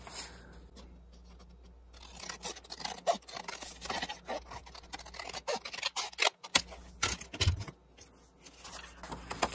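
Scissors cutting through a sheet of paper, a steady run of crisp snipping and slicing strokes at close range, with light paper rustling and no speech.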